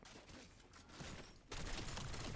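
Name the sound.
MK78 LMG gunfire in Black Ops 7 Zombies video game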